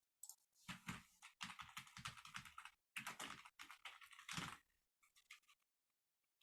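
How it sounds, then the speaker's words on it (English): Bursts of rapid clacking keystrokes on an old mechanical computer keyboard, close and quiet, in irregular runs separated by short pauses before trailing off into a few isolated taps. "Sounds like you have a mechanical keyboard."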